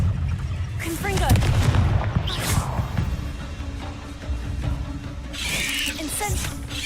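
The Confringo explosive spell goes off in Hogwarts Legacy, a booming, crackling blast with whooshing and squealing effects that swells and fades over several seconds, then another burst near the end.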